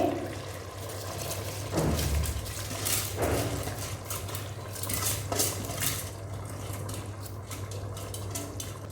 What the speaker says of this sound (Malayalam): ഇതിനൊക്കെ നമ്മൾ കൈക്ക് വൃത്തിയാക്കി വെച്ച റൈസ് ഇട്ട് കൊടുക്കുകയാണ്.